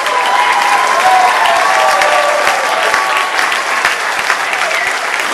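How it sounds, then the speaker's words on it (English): Sustained, loud applause from a large audience at a charity fundraising auction, greeting a bidder, dense and steady throughout with a faint tonal hum underneath. "Give them a big round of applause, folks."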